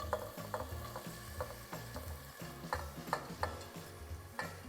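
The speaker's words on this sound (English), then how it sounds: "You wanna hear the sizzle when you put it in" Hot olive oil sizzles steadily as onions fry, with the scrape and clatter of stirring breaking through at intervals over a busy background of music.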